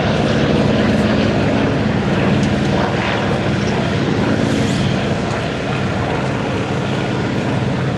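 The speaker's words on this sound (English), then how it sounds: "Let's listen as they come in from the left, your World War II fighters." World War II fighter planes flying in at an airshow, a loud continuous propeller engine drone filling the whole stretch, steady and close with faint crowd noise underneath.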